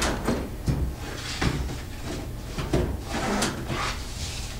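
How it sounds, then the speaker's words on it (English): Sliding doors on a photo booth are pushed open and shut repeatedly, giving a series of close soft rumbling rolls and light knocks at an irregular pace. "Now we've got 2 doors. You can easily slide open and close to make a nice finished look."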